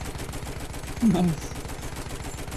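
Rapid automatic gunfire from the video game Battlefield 1, a steady stream of repeated shots running throughout, with a short tonal burst midway and a brief spoken word over the top.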